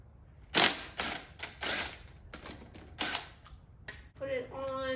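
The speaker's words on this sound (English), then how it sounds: "Put it on hand tight and then torque it down." A wrench tightens the lug nuts holding a Jeep's wheel spacers, giving several close, sharp ratcheting bursts in quick succession, ending in lighter clicking.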